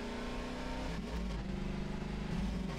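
Vehicle engine from a Half-Life 2 mod game, a steady droning motor hum with pitch rising and dipping as it revs, continuous and fairly loud throughout the short stretch with no talking.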